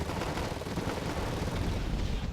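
Gunfire and explosions striking a Fuchs armored vehicle in Wargame: AirLand Battle, a dense, continuous rumble of distant shots and blasts blending into a steady roar with no clear pauses.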